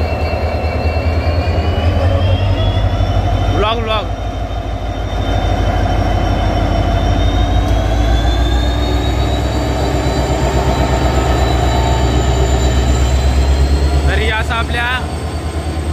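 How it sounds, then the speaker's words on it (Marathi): A diesel locomotive hauls a Konkan Kanya passenger train with a loud, continuous engine drone and rolling rumble, brief screeches rising twice, while a voice speaks briefly over it. "भले इलेक्ट्रिफिकेशन झाली पण ह्या एक ट्रेनला डिझेल असा."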